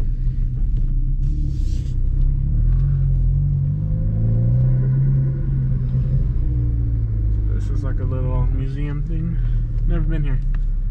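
A car cruising a mountain road near Virginia City, Nevada, with a steady low engine rumble and road noise throughout while someone talks over it.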